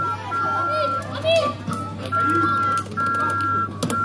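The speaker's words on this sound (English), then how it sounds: "there's kids screaming" Children shout and squeal nearby around a Jolly Roger Thomas the Tank Engine kiddie ride, with a steady electronic hum and tones from the ride underneath; the excited young voices come in bursts across the whole stretch.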